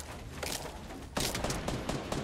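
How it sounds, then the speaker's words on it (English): Rapid gunfire rattles in a Fortnite squad match: a dense burst of shots, then a second louder volley of repeated cracks after a brief gap, close and sharp with no speech. "Crap, I'm getting shot at now."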